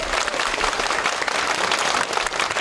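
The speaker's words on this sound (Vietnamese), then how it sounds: "xin quý vị cho một tràng pháo tay đối với nhà văn," An audience in Oakland's Little Saigon applauds a writer, musician and singer, a loud, dense, unbroken round of clapping from many hands.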